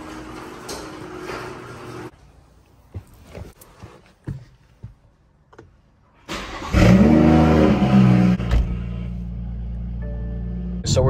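A BMW M240i with a B58 engine, MHD stage 2 tune and anti-lag opens with a few quiet clicks and knocks, then a loud, close engine rev swells and holds as a sustained drone while driving.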